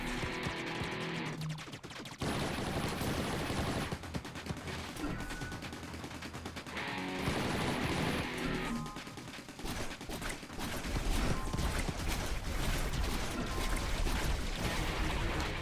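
Plasma gun fire from a ship in the 2D bullet-hell shooter Steredenn Binary Stars, a steady stream of rapid crackling shots layered over game music, continuing loudly with brief gaps.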